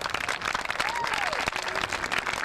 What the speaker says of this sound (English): how about a round of applause for Dewey's fine talents